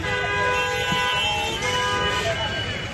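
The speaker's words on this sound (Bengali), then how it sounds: "জ্যামে জ্যাম, রাস্তা পার হওয়া যায় না, এত জ্যাম রাস্তা" Horns honk repeatedly in a dense road traffic jam, a tangle of tooting vehicle horns over engine rumble, with a voice talking nearby.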